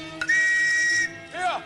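A police whistle gives one long, steady shrill blast, then a short wavering toot, loud and close in a 1976 comedy sketch set in old London.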